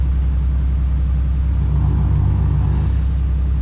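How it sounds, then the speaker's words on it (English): A steady low truck engine rumble hums continuously inside the cab in Euro Truck Simulator 2, with faint distant traffic noise in the background and a slight rise in the middle. "the faint sound of traffic and the sound of your engine purring"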